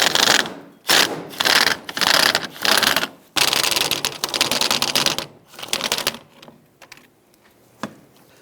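Rapid bursts of metallic ratcheting from a wrench loosening and removing a trailer hitch receiver bolt under a 1999-2004 Jeep Grand Cherokee, several close, loud runs of clicks with short pauses between, fading to sparse taps at the end.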